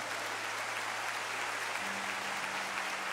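Church congregation applauds during a sermon, a dense, continuous wash of clapping heard from within the crowd at moderate level.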